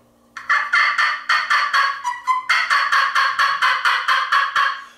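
A slate call imitating a turkey hen's yelp, a long run of sharp, rhythmic yelps about five per second, loud and close, with a brief break in the middle and no voice over it.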